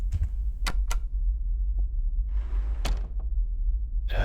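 Typing on a computer keyboard beside a mouse gives a handful of sharp, close clicks and taps, spaced irregularly over a low background hum.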